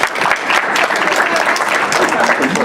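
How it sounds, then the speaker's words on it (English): An audience at a county government event breaks into sustained applause, dense clapping from many hands filling the room, with faint voices mixed in. "Let's give a round of applause to our controller."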